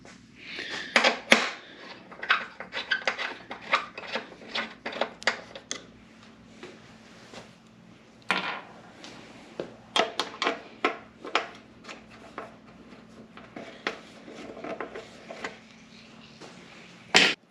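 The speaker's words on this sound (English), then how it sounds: "I just really carefully used this putty knife, slid it in there. Popped up, came right out." A putty knife slides under a plastic fairing panel on a Suzuki V-Strom 800DE motorcycle and pries it loose, making close scraping, rubbing and clicking sounds in uneven bursts with sharp snaps as clips release.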